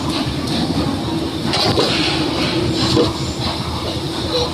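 Soaked rice gets washed in water, with continuous sloshing and swirling close by and a few louder splashes along the way, and no voices.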